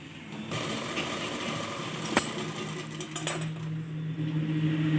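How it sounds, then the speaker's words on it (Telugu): A sewing machine stitching at home, a steady close mechanical whir with a faint rhythmic rattle running throughout and one sharp metallic click partway through. "చూడండి కుడుతూ ఉన్నది."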